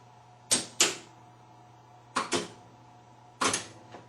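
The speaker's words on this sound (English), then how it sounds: "I can just pull the switch on the coin acceptor and make it think a coin fell in" The coin acceptor switch on a Bally electro-mechanical slot machine gives sharp mechanical clicks, landing as three paired snaps a second or so apart. A low steady hum sits underneath, close and quiet, with no talk.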